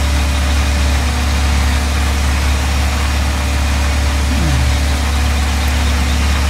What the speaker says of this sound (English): This 8400T is a